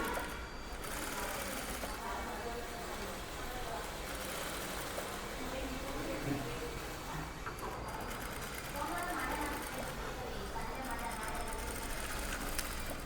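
Sewing machine stitching a blouse, a continuous mechanical whir running for the full stretch with a busy, noisy background and some voice-like activity mixed in.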